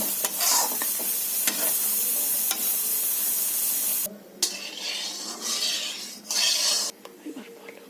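Cooked taro stem curry (sar kochu ghonto) being scraped and poured out of a hot pan, with steady stirring and scraping clatter, faint sizzle and a few sharp utensil knocks against the pan, close and fairly loud.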